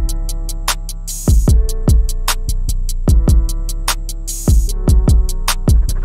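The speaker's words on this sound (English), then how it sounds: "We also have the reverse kick," A reversed kick drum with reverb swells upward into each hit, repeating in a steady hip-hop beat over crisp ticking hi-hats and a low bass tone, loud and close with no voices.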